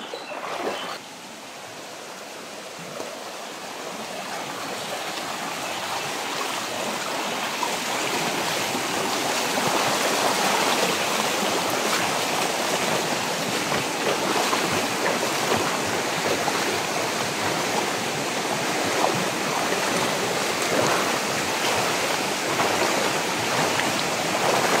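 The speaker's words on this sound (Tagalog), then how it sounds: "Lakas guys ng agos. Rumaragasa." Strong rushing stream in a forest, fast powerful current pouring steadily and loudly throughout, a broad continuous roar of water that swells slightly after the first few seconds, with no talk.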